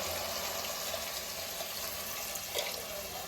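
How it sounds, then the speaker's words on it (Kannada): Water poured from a glass into a pot of mutton cooking in oil, a steady close rushing splash lasting the whole moment with no talk over it. "ಈಗ ಒಂದು ಗ್ಲಾಸಷ್ಟು ನೀರು ಹಾಕೋಣ"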